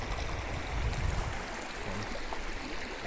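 A large mountain river flows with a soft, steady rushing murmur heard from some distance, fairly quiet and continuous, with a slightly fuller surge near the start and no speech.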